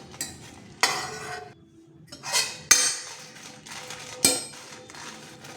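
Red chillies dry-roasting and being stirred in a kadai with no salt, a metal spatula scraping and clinking against the pan in a few sharp bursts, with a light crackle in between.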